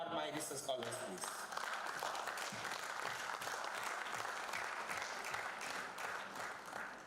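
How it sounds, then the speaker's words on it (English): Steady, dense clapping from a conference audience applauding research scholars at an international science meeting, fairly faint and continuous throughout with a brief voice at the start. "give a huge applause for my research scholars, please"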